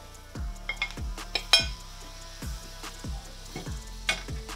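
Meat frying in a pan for a fiery curry gives off a steady sizzle, broken by repeated clanks of a utensil stirring against the pan and occasional clinks, close and fairly loud, with no talking.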